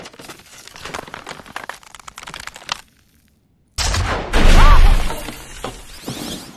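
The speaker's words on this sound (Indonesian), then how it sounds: "Si nenek tembakin atapnya terus" Loud shotgun blasts fired into a ceiling in the animated film Ratatouille, sharp bursts with debris crashing, a brief dead silence, then a heavy blast and crumbling clatter.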